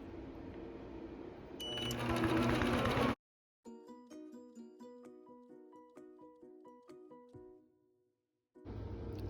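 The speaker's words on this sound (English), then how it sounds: "Intelliquilter takes a single stitch and is going to go right back to quilting" An Intelliquilter computerized quilting machine stitches a quilt: a loud burst of whirring noise, then a clear run of rhythmic, evenly repeated mechanical pulses that slows and stops. No one speaks.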